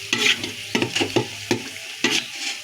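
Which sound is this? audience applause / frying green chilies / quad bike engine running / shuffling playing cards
frying green chilies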